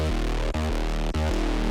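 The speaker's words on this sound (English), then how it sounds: "So a little bit of a Reese, bass-ish kind of vibe." A deep, buzzy Reese synth bass holds sustained notes with a thick, detuned unison sound, retriggering twice in a steady pattern.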